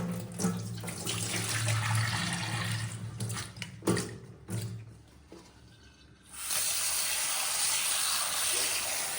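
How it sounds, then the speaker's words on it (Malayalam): Dried shark fish is rinsed under a running kitchen tap, a steady close rush of water splashing into a sink that briefly softens and then returns at full strength. "അപ്പോൾ അതൊരു 2-3 പ്രാവശ്യം നമ്മൾ കഴുകണം കേട്ടോ"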